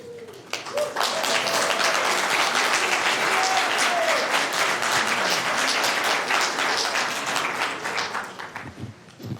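Sustained applause fills a county board of supervisors meeting room, many hands clapping steadily and fairly loud for several seconds before tapering off near the end.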